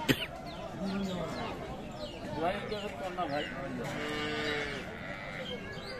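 Cattle at a rural livestock market in Dinajpur moo and low repeatedly amid a busy crowd, with several people talking over and between the calls.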